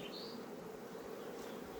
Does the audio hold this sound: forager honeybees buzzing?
yes